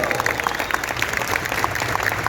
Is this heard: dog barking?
no